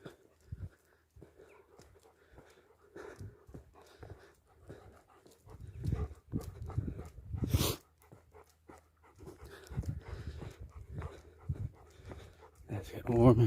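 Heavy, labored breathing of a person outdoors on an early morning walk after climbing a hill in Ireland, close to the microphone, with rhythmic panting puffs, footsteps and some brief talk.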